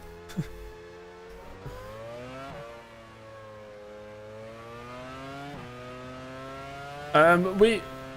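Racing-car engine from the F1 Challenge 99-02 game, a steady whining tone that rises and shifts with gear changes, with a brief tire-squeal-like burst near the end.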